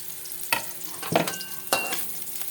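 Squash, long beans and eggplant being sautéed with fish in a pan: stirring scrapes and clatter in three bursts over a low steady sizzle, no talking.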